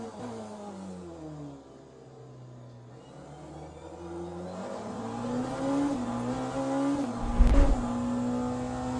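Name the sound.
race car driving in Le Mans Ultimate video game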